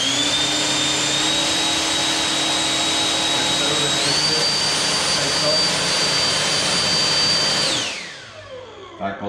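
Loud, close whine of small electric motors and propellers on a VTOL model aircraft spinning up at partial throttle, pitch stepping higher midway before the motors cut and spin down at the end.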